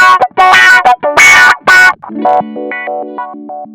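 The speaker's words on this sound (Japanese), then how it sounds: "オートワウ" Electric guitar through the auto-wah effect of a Zoom G1X Four multi-effects processor: a few bright strummed chords with sweeping filtered tone, then a run of single plucked notes stepping up and down, close and clear.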